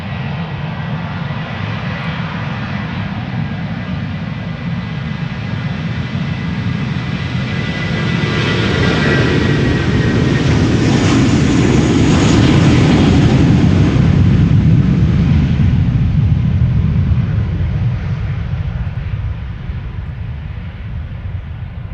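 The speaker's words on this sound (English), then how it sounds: "BA flight 2541, an A321, 18 years old." An 18-year-old British Airways Airbus A321 jet at Amsterdam Schiphol Airport roars close by, its engine noise swelling steadily to a loud peak midway and then slowly fading, with no talk.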